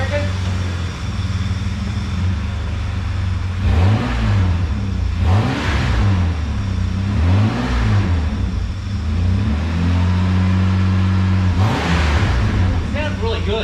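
A Holden VR ute fitted with a new front-wheel-drive Pontiac engine revs up and down repeatedly, several rising and falling surges over a steady idle, heard up close with no speech.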